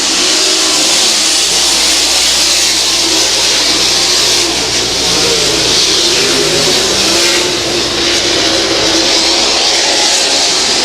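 Race cars roar at full throttle around an oval track at the Clyde Wood Memorial, a loud continuous engine drone that swells and fades as the pack passes.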